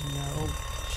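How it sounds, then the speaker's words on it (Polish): An alarm rings steadily in The Walking Dead Season 1 video game, a constant electronic tone running through the moment with busy game sounds and voices underneath. "Alarm. We gotta hurry."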